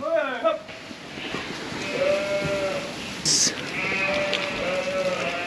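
Sheep bleat repeatedly, some close and some farther off, while being herded into a shed at housing time, with a voice and general barn noise running underneath.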